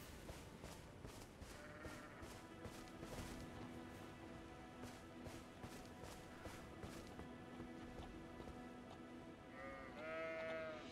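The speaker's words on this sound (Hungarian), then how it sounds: "Ó, a birkák." Sheep bleat in the fantasy video game Elden Ring, quiet and somewhat distant, a few wavering calls near the end over a steady game soundscape with light footstep-like taps.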